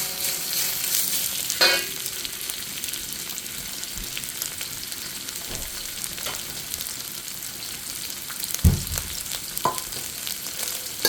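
Garlic sautéing in a pan for beef with tomatoes, onion and black bean sauce, a loud continuous sizzle broken by a few scraping stirs and clanks of a utensil, close, with no talk.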